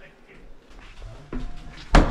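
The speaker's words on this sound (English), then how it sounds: "I still don't know what made that door slam." A solid knock, then a sharp, loud barn door slam near the end of a fairly quiet stretch, with no wind or draft.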